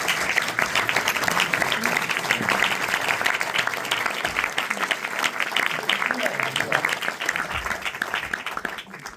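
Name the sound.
audience applauding actress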